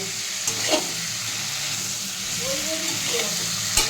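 Chicken cooks in a pan with papaya and potato, giving a steady, fairly quiet sizzle and frying hiss with occasional light stirring scrapes and clinks.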